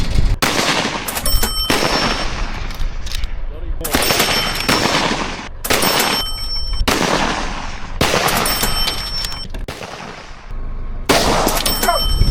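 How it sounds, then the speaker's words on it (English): Rapid bursts of gunfire from a feral pig cull in Australia, loud and close, coming in repeated volleys of several shots each with short pauses between. "So I'll cut through to us shooting"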